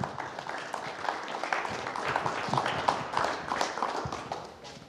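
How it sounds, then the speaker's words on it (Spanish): A crowd at a school classroom inauguration in Chichoy Alto claps in steady, moderately loud applause that fades toward the end, with no talking. "Recibamos con fuertes aplausos al profe Elviro."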